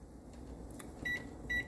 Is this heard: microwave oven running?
yes